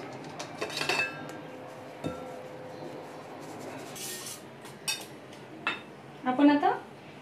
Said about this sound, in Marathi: हे सगळं आपल्याला ड्राय व्यवस्थित मिक्स करून घ्यायचं आहे गाळून